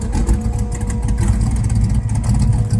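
A Pontiac Firebird sits warming up outdoors in the sun, its engine idling with a steady, throaty low rumble that stays loud and close throughout, with no talking.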